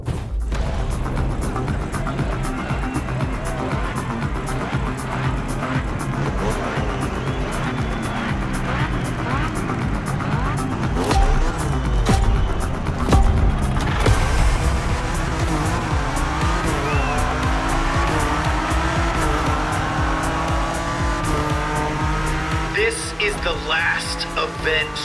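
BMW M4 doing donuts in The Crew Motorfest video game: a loud, sustained revving engine with continuous tire squeal and skidding, pitch rising and falling through the spins, joined late by a higher whine.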